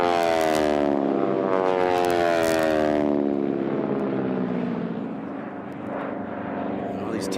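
North American T-6 propeller aircraft racing past at the STIHL National Championship Air Races, a loud droning engine and prop whose pitch drops as it passes close and recedes, with an announcer speaking over it.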